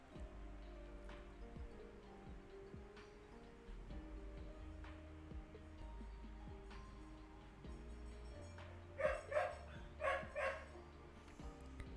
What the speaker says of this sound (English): Now, why are our dogs are barking?